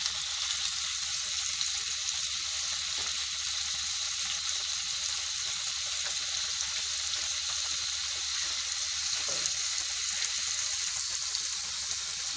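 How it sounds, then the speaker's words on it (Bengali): Chopped onion fries in a pan with a dense, steady sizzle and crackle, the hiss holding even throughout with no talk. "পেঁয়াজটাকে একটু ভেজে নিতে হবে।"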